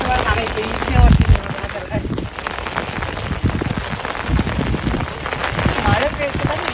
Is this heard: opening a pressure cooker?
no